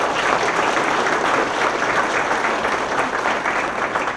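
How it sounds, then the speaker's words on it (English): An audience at a police chief's swearing-in ceremony claps steadily, a dense, loud burst of applause that holds evenly throughout. "So let's give a round of applause for Randy turning people's lives around."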